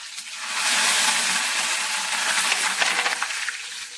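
Mustard seeds and curry leaves crackle and sizzle in hot oil with a steady, bright hiss, close and continuous, with faint pops scattered through it.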